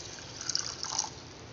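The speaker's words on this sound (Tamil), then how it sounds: "இதில் வந்து 1 கப் அளவு நம்ம தண்ணி விட போகிறோம்" Water pours from a cup into a saucepan holding a tablespoon of flax seeds, a soft steady trickle with a slight swell midway, quiet and close.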